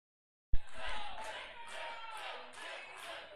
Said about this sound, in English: I think they're cheering and saying Tibbs